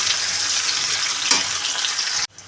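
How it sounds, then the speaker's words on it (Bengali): Onions sizzle and fry steadily in a hot pan with white cumin, a continuous close crackling hiss that cuts off abruptly near the end. "পেঁয়াজগুলো দিয়ে দেবো, পেঁয়াজটা একটু ভাজা ভাজা হবে"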